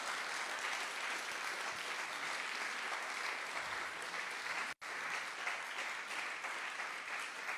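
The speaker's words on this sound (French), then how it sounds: "Je vous propose de refaire un tonnerre d'applaudissements pour toutes les teams." A demo day audience gives the data science teams a sustained round of applause, a thick, steady roar of clapping hands that stops abruptly for an instant before resuming just as strongly.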